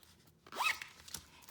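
A zipper on a vintage embellished bag is pulled once, a quick rising rasp up close, followed by a faint click of the pull, with no talking.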